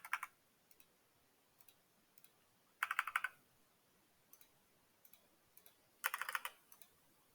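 Answers being typed on a computer keyboard: scattered single key taps and three short rapid clusters of clicks, close and quiet, with no talking.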